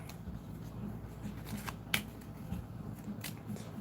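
A deck of plot cards for a tabletop board game is shuffled close by, with soft riffling and sharp snaps of cards in a quiet room.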